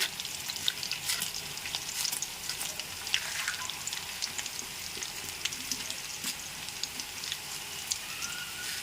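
Chana dal and urad dal go into hot oil for a ridge gourd tomato chutney, giving a faint, fine crackling and popping that runs steadily with no speech.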